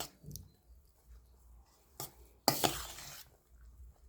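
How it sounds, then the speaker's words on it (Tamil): A spoon works tamarind paste into cooked rice for puliyodharai, giving soft wet squishes and a couple of louder scraping stirs against the vessel, close and brief with quiet pauses between. "புளி பேஸ்ட்டை வந்து போட்டு கலந்து விட்டுக்குவோம்."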